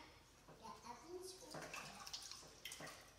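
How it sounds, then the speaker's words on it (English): A young girl splashes and plays with water indoors, producing scattered soft sloshes and drips at a low level, with someone talking faintly over it. "my sister's playing with water, and you can hear her"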